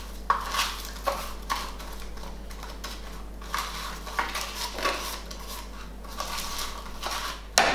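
Batter for an apple and yogurt sponge cake being beaten by hand in a bowl, a steady run of light clicking and tapping strokes over a low hum.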